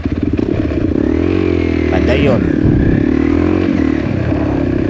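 A motorcycle engine hums steadily and close on a rural road trip from Mambagaton toward Libacao, with a rider's voice talking over the continuous drone and a brief clatter midway.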